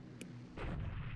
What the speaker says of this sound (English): Bombing in China.